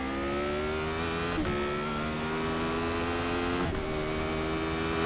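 A Radical SR8 race car in the iRacing simulator holds a loud, steady engine drone at high revs throughout, with two brief gear-shift dips, and no one speaks.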